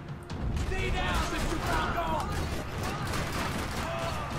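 Sustained gunfire in Max Payne 3 as vehicle tires are shot out, a dense continuous barrage mixed with crashing game sounds while a person talks over it.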